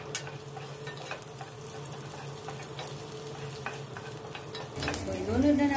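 Onion and garlic sautéing in olive oil for a stir-fry of bottle gourd and squash: a soft, steady sizzle with scattered crackles and a few stirring scrapes, then a louder burst of frying near the end.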